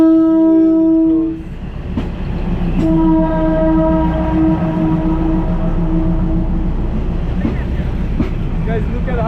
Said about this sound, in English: Guys, look at how cramped up we are behind the train.